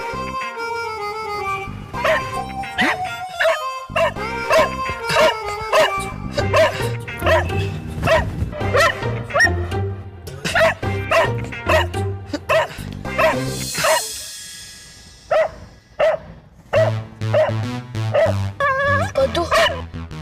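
Several dogs bark, yip and whimper in quick bursts over a musical backing track in a TV show scene, loud and close with a brief lull midway.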